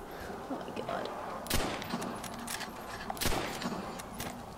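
Gunfire in Call of Duty World at War Zombies: several sharp shots crack out over a steady game background, two of them louder and closer, with scattered quieter pops between.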